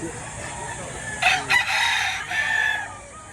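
A Kelso rooster crows once, a short bright call rising over a steady background hum at a Batangas chicken market.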